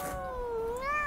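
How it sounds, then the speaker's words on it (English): A cartoon cat gives a single short meow with a rising and falling pitch, close and clear, with no talking. "Silly cat."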